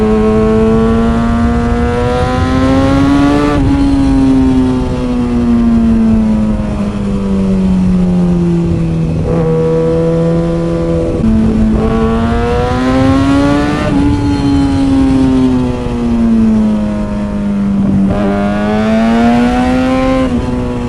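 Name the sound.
motorcycle engine revving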